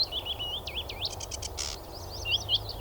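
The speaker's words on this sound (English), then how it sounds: "That's a sedge warbler just in from Africa now." A sedge warbler and other male birds singing to mark territory, with fast scratchy warbles, whistled trills and buzzy rattles, close and lively over a steady outdoor background hum.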